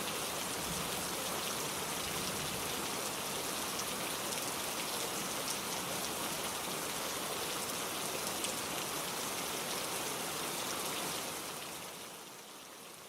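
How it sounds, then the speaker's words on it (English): Heavy rain pours down in sheets, a dense, steady hiss of drops that stays loud and constant before easing off slightly at the very end. "the rain began to fall harder, pouring down in sheets."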